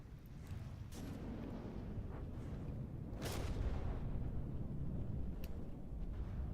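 Anti-aircraft guns on warships fire in From the Depths, a steady heavy barrage of booming shots and rumble, with a few sharper reports standing out over the continuous din.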